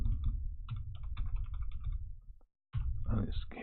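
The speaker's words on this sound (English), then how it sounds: "We're going to type in Wakanda Central Time" Fingers type on a computer keyboard in a rapid, close run of clicking keystrokes, pausing briefly before a final burst of keys.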